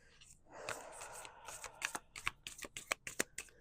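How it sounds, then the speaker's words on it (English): Oracle cards being shuffled and pulled from a deck at close range: a soft riffling flutter followed by a quick series of crisp, snapping card flicks, quiet and with no talking. "let's pull some more oracle cards"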